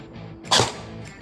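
A CYMA SR25 Platinum CM098 airsoft rifle, upgraded and firing a 0.20 g BB, lets off one sharp, close shot that snaps out and decays quickly over a quiet background.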